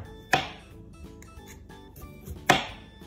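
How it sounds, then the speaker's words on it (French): A knife slices through half a cucumber on a cutting board, giving two crisp, close chops about two seconds apart over quiet background noise. "Je vais commencer à découper la moitié d'un concombre."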